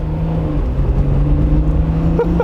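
A 1993 Alfa Romeo RZ (Roadster Zagato) engine pulls hard under acceleration, a loud, steady, close-up drone that holds without a break for a couple of seconds, with no talking over it.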